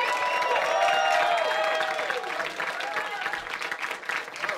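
A comedy club audience in Miami claps and cheers for a comedian taking the stage. The applause is loud at first with bright whoops, then thins into scattered clapping and a few shouts as it fades.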